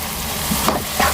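Dry fruits and dates roasting in ghee for khajoor halwa, giving a steady, close sizzle with a few soft stirring scrapes and no talk.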